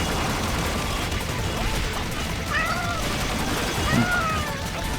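Cats meowing in the cat room of the La Tale online game dungeon, a few short meows heard over dense, loud game music and battle effects.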